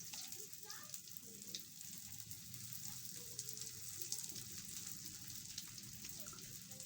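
Dynamite lumpia fry in hot oil on a stove, giving a steady crackling sizzle throughout, with a person talking over it.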